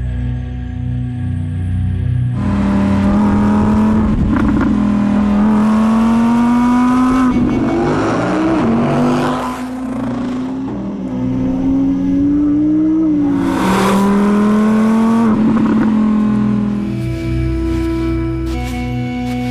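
An Audi R8 supercar engine revs loud and close, climbing and falling through repeated pulls and gear changes with a brief tire squeal as it drives, no voices.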